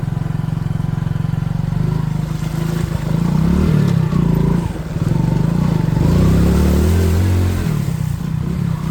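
A Hero HF Deluxe motorcycle ridden on a rough off-road track, its engine droning loud and close with shifting revs and clattering bumps from the uneven ground.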